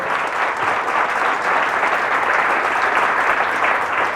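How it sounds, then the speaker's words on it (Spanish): A church congregation applauds steadily during a Holy Week Mass, a dense unbroken wash of clapping that lasts the whole time. "denle un fuerte aplauso a la palabra del Señor"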